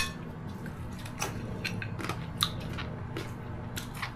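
Crispy fried pork skin (lechon kawali) crunches in a string of sharp, close bites at a steady chewing rhythm, loud and dry against a low room background with no talking.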